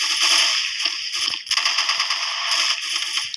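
Rapid automatic fire from an AK-74 rifle in the shooter game Special Force, two sustained bursts of sharp crackling shots separated by a brief pause, loud and dense with no talking.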